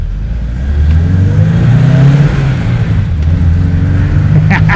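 A 1973 BMW 2002 Tii engine revving under full throttle, loud and close, its pitch climbing and holding as the revs rise through the whole stretch.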